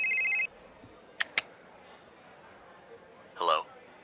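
A telephone rings once in a steady electronic tone, then a pair of sharp clicks follows and a brief burst of sound comes later, all moderately loud over quiet room noise during a tabletop role-playing session.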